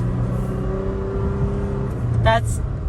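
A Toyota Tacoma truck fitted with new gears and a tune accelerates, its engine droning steadily from inside the cab with a brief louder burst near the end, under people talking.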